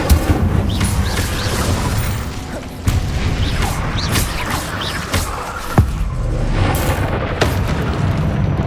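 The Incendio fire spell is cast in Hogwarts Legacy, heard as loud whooshing, booming bursts that repeat a few seconds apart over a busy, crackling background.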